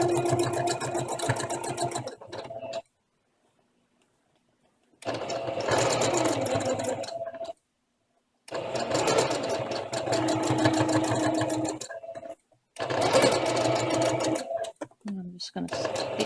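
Sewing machine stitching an embellished ribbon, running in several steady bursts of rapid mechanical whirring separated by short silent pauses, close and clear with no talking over it.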